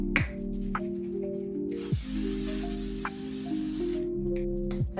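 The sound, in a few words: spraying L'Oréal Infallible Setting Mist on face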